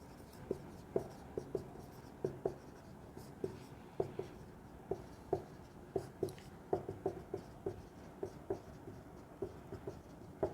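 Pen or marker writing out a physics equation, with close, repeated scratchy strokes and taps in an uneven rhythm, steady and alone without talk.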